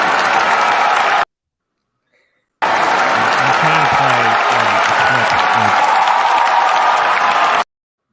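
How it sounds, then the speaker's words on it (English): A round of applause comes through an online connection during a fantasy football dynasty mock draft call. Dense, steady clapping plays for about a second, stops briefly, then resumes and runs until the end, with faint talk underneath. "I was trying to give you a round of applause, Adam"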